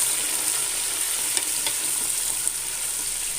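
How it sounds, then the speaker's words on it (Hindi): Ginger garlic paste and spices sizzle steadily in a hot pan for a vegetable biryani, a continuous close frying hiss with a few faint clinks of stirring, no voices. "अब मैं इसके अंदर 1 टेबल स्पून अदरक लहसुन का पेस्ट डाल दूंगी और अच्छे से मिक्स कर लूंगी।"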